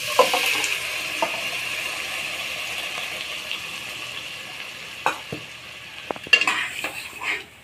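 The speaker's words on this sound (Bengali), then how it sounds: "এখন ডালগুলা সম্বারা দিয়ে দেব" Chana dal goes into hot tempering and is stirred in a pan, heard as a steady hiss of frying with occasional spoon clinks and scrapes that grow busier toward the end.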